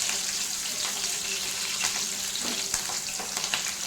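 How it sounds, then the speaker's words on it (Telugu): Green chillies, chopped onions and curry leaves frying in oil in a pan over low flame, a steady close hiss and sizzle with a few soft stirring clicks. "పచ్చిమిర్చి, కరివేపాకు, ఈ 3 బ్రౌన్ షేడ్ వచ్చేదాకా దోరగా వేసుకోవాలి."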